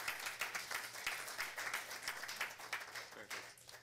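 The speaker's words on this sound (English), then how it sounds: "Give a round of applause for its hard work." Faint, scattered applause rises in a city council meeting chamber, a thin patter of claps heard at a distance over a low background hum, with a voice murmuring faintly beneath it.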